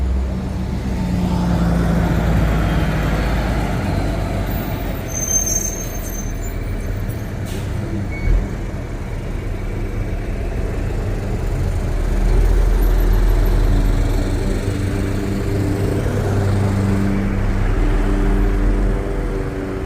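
A truck rolls past on a city street in León, Spain, its low engine rumble steady and close over the wider hum of traffic, with a brief hiss near the middle.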